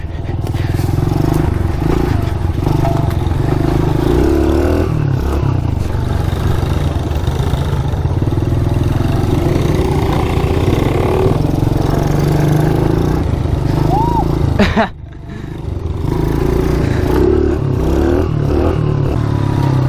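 A KTM mini bike engine drones steadily and loudly close by for nearly the whole stretch, its pitch rising and falling with throttle, broken by one brief dip near the end before picking back up.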